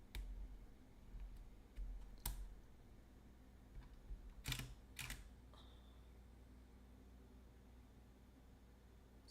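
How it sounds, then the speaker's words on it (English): A camera shutter is clicked a few times to get a stalled camera working again: sharp, isolated mechanical clicks spaced irregularly over faint background hiss, close and fairly quiet, with no talking. "I have to do the shutter to get it to work"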